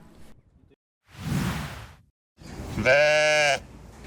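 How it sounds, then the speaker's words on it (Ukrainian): Decorative Cameroon goats with Romanov and fat-tailed sheep at a zoo: a soft rushing burst, a short pause, then one loud, clear, wavering bleat close by. "поповнення у декоративних камерунських кіз та курдючих і романівських овець"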